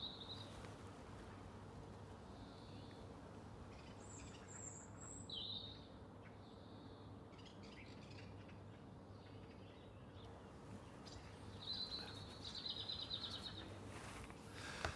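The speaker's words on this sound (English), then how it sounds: "getting this microphone array and a windshield up as close as I could to the singing blackbird" A blackbird sings outdoors, recorded up close with a telescopic microphone array and windshield. Short, bright whistled phrases and chirps come intermittently over a faint, steady ambient hum.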